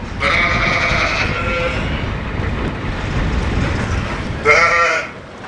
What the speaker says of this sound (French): Malgré les rigueurs de l'hiver, le mouton peut vivre en pâturage toute l'année.